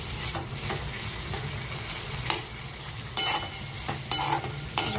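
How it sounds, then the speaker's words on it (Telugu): Potato and cauliflower pieces fry in two tablespoons of oil with a constant sizzle, broken by several scraping stirs of a spatula in the pan. "ఆలు కాలీఫ్లవర్ ముక్కల్ని లైట్గా ఫ్రై చేసుకోవాలండి. సో కొంచెం 2 టేబుల్ స్పూన్ ఆయిల్లో లైట్గా ఫ్రై చేసుకోవాలండి"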